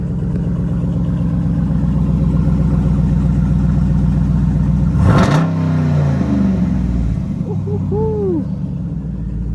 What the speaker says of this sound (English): let's let it run and get a rev on this one too